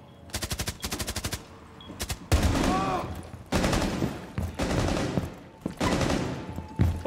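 Bursts of automatic fire rip through a full magazine in a video game shootout, sharp rapid reports in several long strings separated by brief gaps, loud and close with a few clatters between bursts.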